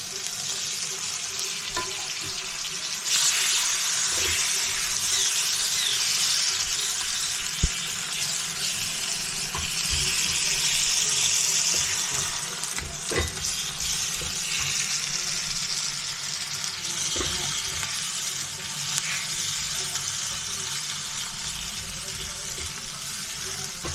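Tomatoes fry in a pan with chickpea and pea lentils, giving a steady sizzle with occasional stirring clinks and scrapes throughout.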